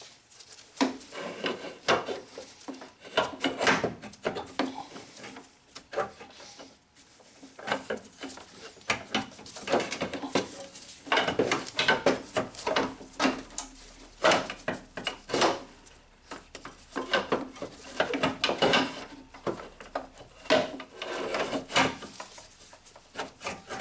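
An old engine mount is worked loose from a 2007 Nissan Altima, giving irregular bursts of scraping, clunking and rubbing metal-on-rubber sounds, close up, with short pauses between efforts.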